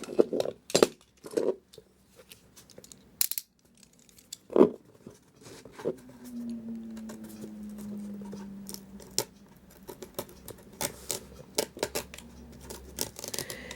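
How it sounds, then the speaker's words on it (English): A razor blade cuts the pages out of an old book: sharp scratchy strokes and taps come close by in scattered bursts, with a soft dragging slice in the middle. "We're going to cut out the contents of the book."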